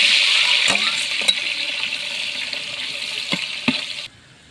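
Onions and green chilies frying in oil with cinnamon, cloves, star anise and cardamom, a strong steady sizzle punctuated by a few stirring knocks before it cuts off abruptly near the end.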